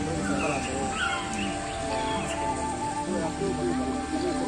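Birds and crows cawing and chirping throughout a light and sound show at the Cellular Jail, steady layered calls under a constant background wash with narration-like sound mixed in.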